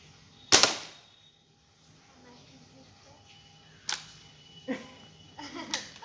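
A precision shot from a Gennenx Pro gun aimed at match heads gives one sharp, loud crack near the start. Later come a few softer, shorter knocks and rustles in a quiet room.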